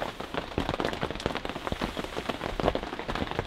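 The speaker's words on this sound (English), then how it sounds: "The rain has arrived." Heavy rain drums on a thick canvas WW2 officer's tent, a dense, continuous patter of many sharp drop impacts heard from inside, fairly loud and unbroken with no voices.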